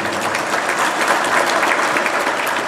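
Audience at a religious talk on Islamic boarding schools breaks into loud, sustained applause, a dense even roar of many hands clapping close by.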